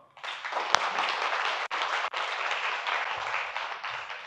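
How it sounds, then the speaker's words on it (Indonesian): Audience at a creativity presentation clapping for a man named Bambang, a steady, full round of applause lasting several seconds with only brief dips. "gue pengen lo tepuk tangan buat Bambang"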